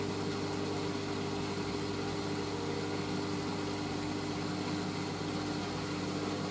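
A Hoover SIX AAA160 Whisper 1600 washing machine on a heavy synthetics wash at 50°C runs an intermediate spin at 400 RPM, giving a steady, continuous whirring hum with a low rumble and no talk.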